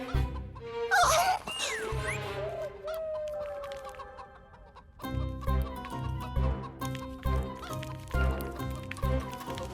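A hen clucks in short, uneven bursts over a busy musical background, the calls repeating several times across the stretch.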